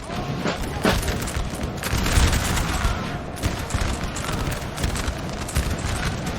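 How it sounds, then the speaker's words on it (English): Musket volleys crack back and forth across a dry riverbed in a Napoleon: Total War battle, a dense continuous fusillade of overlapping shots with heavier booms, loud and steady throughout. "This portion of the field is just a fighting back and forth, volleys across this dry riverbed."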